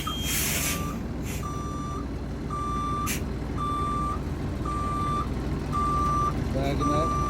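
During a CDL backing exercise, a truck reverses with its backup alarm sounding steady evenly spaced beeps, about seven of them, over a constant engine drone, with a brief hiss of air near the start.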